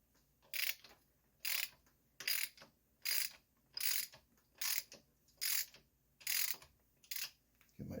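A ratchet clicks in quick rhythmic bursts, about ten strokes, loosening the 10 mm oil drain plug on a Mercury 3.5 HP outboard motor, quiet and close with no talking.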